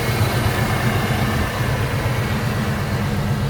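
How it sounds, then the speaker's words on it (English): A 1990 GMC Jimmy 4x4 with a 5.7 EFI V8 and mellow mufflers idles steadily, a low, even rumble with a soft burbling exhaust pulse and no voices. "It's got a set of, pretty mellow mufflers on it, so you can hear it."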